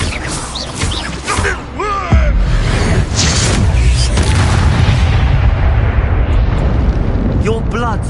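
Booming spell explosions from the Hogwarts Legacy video game, including the Bombarda blast, rumble loudly and continuously with sharp bursts, while a voice talks over parts of the din.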